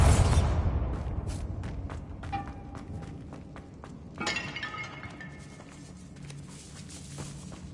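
Blasting spells in the Hogwarts Legacy video game go off in quick succession, with a loud opening burst followed by sharp breaking, shattering and clinking of objects in a catacomb. Scattered thuds and rattling debris follow, fairly close.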